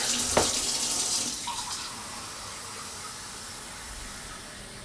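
Tap water runs steadily into a sink, opening with a brief splash or clunk and then settling into a constant hissing flow that fades slightly and holds, close by and with no speech.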